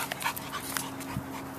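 A dog pants steadily at close range during leash training, quick breathy huffs repeating across the short moment with no talk over them.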